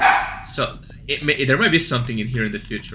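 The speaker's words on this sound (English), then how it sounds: "Sorry about my dogs" Pet dogs barking in a home while someone plays the indie horror game The Bedroom, a couple of yips and barks half-buried under steady close-up talking.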